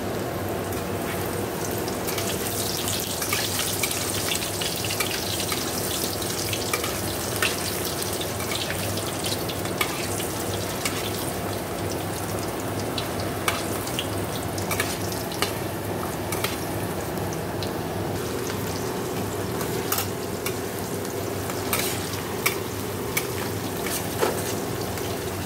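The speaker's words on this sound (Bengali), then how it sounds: "দেখুন পেঁয়াজটা ভাজা" Onions frying in a pan in a home kitchen: a continuous, moderate sizzle with scattered crackles and pops, steady throughout and heard close, with no talking.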